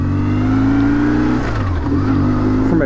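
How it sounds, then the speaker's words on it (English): A 2004 BMW R1150R motorcycle engine pulls away under throttle, its loud, steady boxer-twin drone rising slightly in pitch as it accelerates close by, with no talk. "you have to give it like a little bit of gas"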